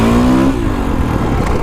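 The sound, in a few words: Kawasaki KX450X dirt bike climbing a hill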